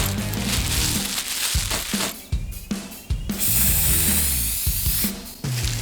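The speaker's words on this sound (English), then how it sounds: "Cool, spray paint." Aerosol spray hissing in repeated bursts with short pauses between them, alongside rattling and scraping handling noises, close up.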